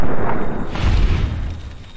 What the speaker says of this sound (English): Maybe I can shoot them before they shoot us.